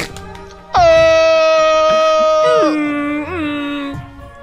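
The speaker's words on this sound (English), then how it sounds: "You have to get out the air horn." An air horn blares in the Kingdom Hearts 2 Final Mix video game, one loud sustained blast that bends and wavers downward in pitch near the end before fading, with faint background sounds before it starts.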